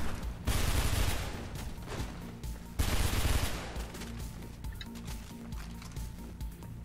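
Shotgun blasts from the video game Mirror's Edge: two loud, heavy booms a couple of seconds apart, each with a long rumbling tail, followed by lingering game ambience and faint clinks.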